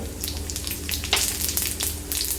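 White cumin seeds crackle and fry in hot mustard oil in a wok, a steady close sizzle with scattered sharp pops and spits throughout.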